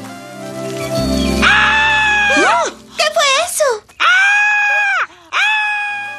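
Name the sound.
cartoon caterpillar screaming horribly, from The Simpsons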